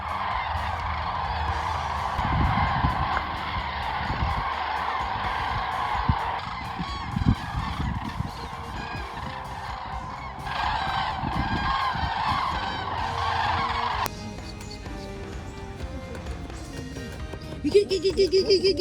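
Flock of migrating cranes over Russia in autumn, loud continuous honking calls from many birds at once, steady and close, thinning toward the end.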